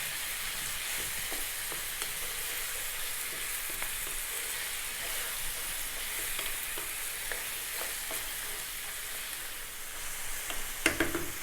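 Food frying in a pan for an Indian lamb curry, stirred almost constantly: a steady broadband sizzle runs throughout with scattered scrapes and taps of the utensil, a louder clatter near the end.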